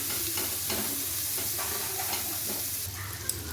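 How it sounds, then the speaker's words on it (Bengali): Chopped onion frying in a pan for mixed fried rice, a steady close sizzle with occasional scrapes and stirring clatter, a sharp tap near the end. "পেঁয়াজটা হালকা একটু ভেজে নিয়েছি"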